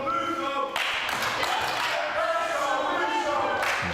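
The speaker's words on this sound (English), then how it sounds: "you can hear the crowd" A wrestling crowd at a heavyweight championship show cheers and claps in the arena, a sustained roar of voices and scattered claps with an announcer's commentary over it.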